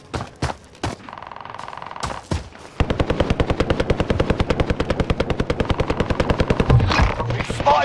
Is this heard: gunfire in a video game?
yes